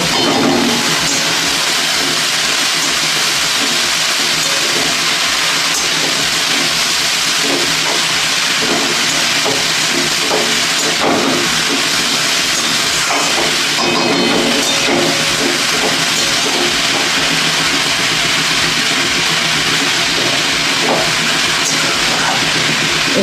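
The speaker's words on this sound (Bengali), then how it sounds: "গাজর বাটায় ঘি আর এলাচের সঙ্গে ভেজে নেব" Grated carrot fries in ghee with cardamom, a loud, steady sizzling hiss that runs on without a break, with faint clinks of stirring throughout.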